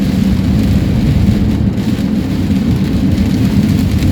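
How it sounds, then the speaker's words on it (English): Steady, dense roar of heavy monsoon rain pouring down, a continuous loud wash with low rumbling that fits distant thunder, no speech over it. "And here comes the monsoon."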